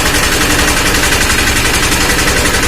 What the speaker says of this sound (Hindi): यहाँ पे इंजन का स्टार्टिंग भी सही है और गाड़ी का साउंड भी सही है